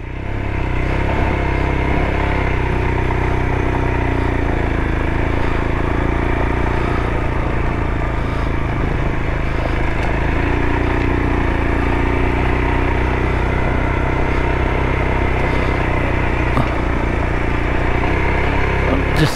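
Royal Enfield Himalayan motorcycle climbing a sharp mountain road, a loud continuous engine drone mixed with heavy wind rumble throughout, steady with no talk.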